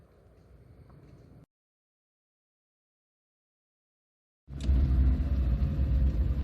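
A 1978 Fiat 127 1050 CL being driven: a low engine rumble at first, a few seconds of silence, then a louder, fuller engine drone with road noise returns and holds steady.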